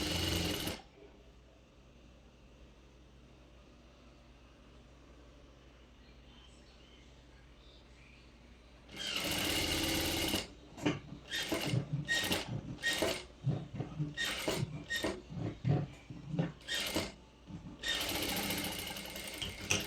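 A sewing machine stitches a palazzo pant seam in short, close bursts of rapid mechanical whirring separated by brief pauses, following a quiet stretch of faint room noise.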